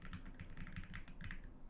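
Computer keyboard keys pressed in quick bursts while entering shortcuts in Excel, with faint, close clicky taps in an irregular rhythm and no talking.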